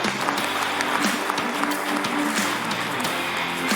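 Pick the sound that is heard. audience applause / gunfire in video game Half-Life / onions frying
audience applause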